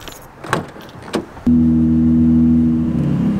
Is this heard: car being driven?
yes